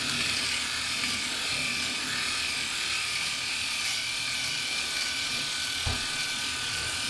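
A SURKER rotary electric shaver runs continuously while shaving, giving a steady close buzz with a brief scrape or knock near the end and no talking.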